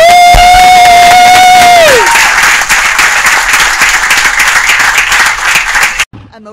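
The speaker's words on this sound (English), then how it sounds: "Alright, one round of applause." A crowd applauds and cheers loudly and continuously at a Navy homecoming welcome, with a sustained tone at the start before the clapping swells and then cuts off abruptly near the end.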